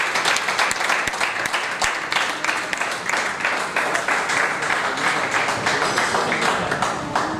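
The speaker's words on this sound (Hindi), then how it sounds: "आप लोग तालियाँ बजाते रहें" An audience at a poetry evening keeps up dense, continuous clapping, an even wash of many hands at steady loudness throughout.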